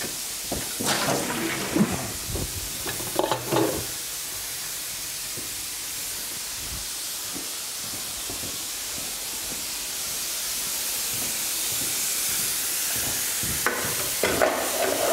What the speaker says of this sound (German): Parallel kann man, wenn man will, hier weiter die Dampfdüse laufen lassen, dass das ganze System schön durchgespült wird.